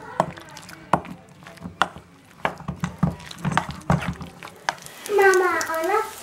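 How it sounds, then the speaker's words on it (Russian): Chicken batter with flour being mixed in a bowl: a run of quick, close knocks and scrapes of the utensil against the bowl, followed by a brief voice at the end. "Все это хорошо перемешиваю."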